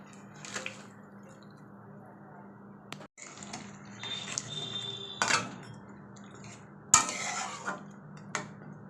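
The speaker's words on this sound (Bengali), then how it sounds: "এবার আমি মাছগুলো দিয়ে দিচ্ছি।" Rohu fish pieces placed into a simmering curry in a pan, with scattered clinks, soft wet plops and utensil knocks over a quiet bubbling background, no voices.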